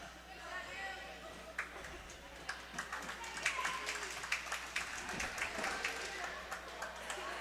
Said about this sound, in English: As Gracie Farmer comes out of the game to applause from the bench and the crowd